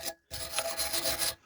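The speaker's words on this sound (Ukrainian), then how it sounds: "Обов'язково очищаємо повністю скобу від абразиву, від пилу." A brake caliper bracket is scraped clean of abrasive grit and dust in a rough, rasping stroke lasting about a second, close up and alone after a brief short scrape.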